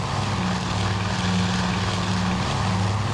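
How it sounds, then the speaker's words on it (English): Torpedo bomber aircraft engines roaring in a carrier combat game, Task Force, a steady loud propeller drone with a low rumbling hum that stays continuous throughout, with no talking. "Down there we see torpedo bombers making a run."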